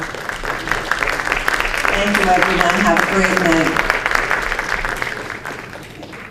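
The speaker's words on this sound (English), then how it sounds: "Give yourselves a round of applause" A board of education meeting audience claps while a speaker thanks the room over a microphone; moderate, steady applause runs under the voice and tapers off toward the end.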